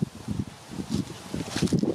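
Gusty wind buffeting a microphone beside a pond, low rumbling swells that rise and fall over a couple of seconds, with no voices.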